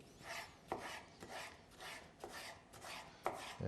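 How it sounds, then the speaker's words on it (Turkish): Red peppers chopped very finely with a knife on a board, a quick run of soft rhythmic blade taps and scraping cuts, close and quiet with no talking. "kırmızı biberlerimi çok ince şekilde öncelikle doğruyorum"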